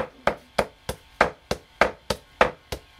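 Bones being chopped by hand with a cleaver on a wooden board for a Vietnamese salted dish, nine sharp, evenly spaced thwacks in a steady rhythm, close and clear with no talking.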